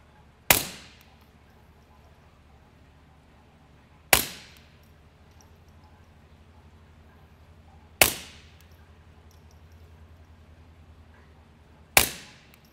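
Gunshots fired during sound testing, four sharp, loud single reports spaced evenly about four seconds apart, each decaying quickly into a quiet background hum.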